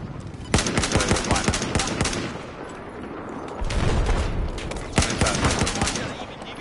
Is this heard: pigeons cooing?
no